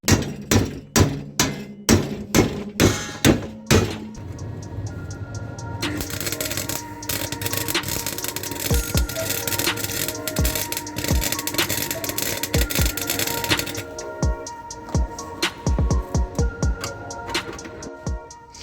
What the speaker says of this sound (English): so I'm going to keep hammering it.